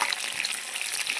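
Ten dried red chillies and tempering spices fry in hot oil for a chutney, giving a bright, continuous crackling sizzle with small pops, close and alone.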